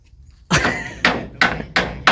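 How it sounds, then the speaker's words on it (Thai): Four loud, sharp hammer blows strike in close succession during house construction, each impact ringing briefly before the next, with no talk over them. "ตอกมันก็ได้"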